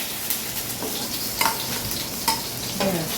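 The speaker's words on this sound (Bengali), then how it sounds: "এদিকে আলু হ্যাঁ লাল লাল হয়ে গেছে ভাজা, কমিয়ে দিয়েছি।" Potatoes frying in oil in a pan as they are stirred, a steady sizzle with a few sharper scraping clicks from the spatula, close and alone.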